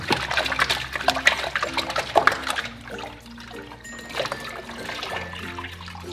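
Hair extensions are swished and rinsed in a bin of clean water, with splashing and trickling close by that is busy at first, then quieter dripping and gentle sloshing.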